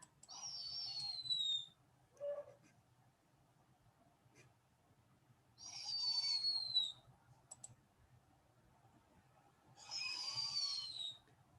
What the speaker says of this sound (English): Yeah, the snowy owl.